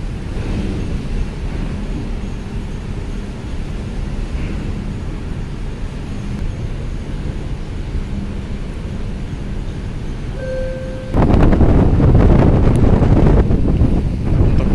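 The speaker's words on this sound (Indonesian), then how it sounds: "hari ini anginnya kencang hingga menimbulkan alun ya di perairan sekitaran Bakauheni" Strong wind at Bakauheni harbour buffets the microphone in a constant, loud roar. Waves on the water sit underneath, and the gusts grow heavier toward the end.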